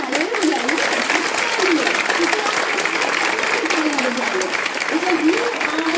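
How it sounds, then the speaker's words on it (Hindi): An audience at a yoga event in Basti district gives loud, sustained applause that holds steady throughout, while a person speaks over the clapping. "जोरदार तालियां भी बजाइए।"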